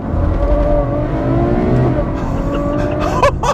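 Ferrari FF with a 650-horsepower engine accelerating hard from inside the cabin, a loud rising engine roar with the rear tires spinning, ending in a brief sharp burst.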